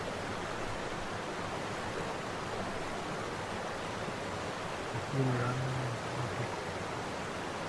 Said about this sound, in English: I can hear the sound of that waterfall now.